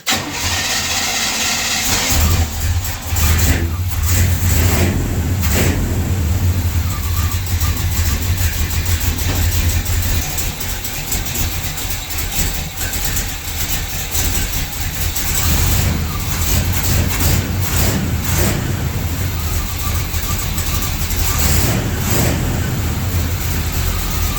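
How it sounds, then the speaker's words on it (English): Hot rod 4x4 with freshly swapped heads and cam cranks and fires up, then settles into a loud, steady, lumpy idle that carries on throughout with slight revs. "Let's fire it up, make sure we ain't got no leaks, make sure it's going to run"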